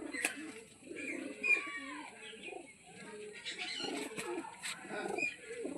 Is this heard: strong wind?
no